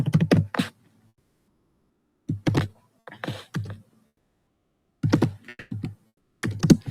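Keys on a computer keyboard being typed in short clustered bursts separated by pauses, close and fairly clear, with no talking.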